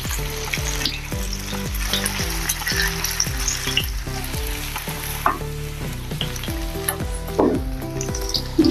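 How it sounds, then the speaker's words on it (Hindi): A semolina snack deep-frying in hot oil, with a steady bubbling sizzle and repeated clacks of a utensil stirring and turning the pieces, close and continuous, no talking. "कलर आने तक तलना है।"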